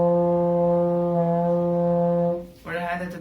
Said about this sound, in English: this French horn has a very, very mellow tone